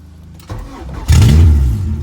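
A car engine with only a header and no exhaust or muffler fitted, cranking over and firing up loud and close, then revving hard and settling into a rough, raspy idle.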